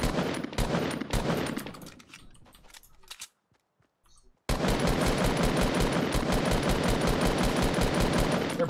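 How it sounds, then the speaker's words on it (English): Rapid bursts of automatic gunfire in the video game Fortnite, dense and loud, with a brief near-silent pause before continuous sustained firing resumes at full intensity. "Oh, they're shooting from the top."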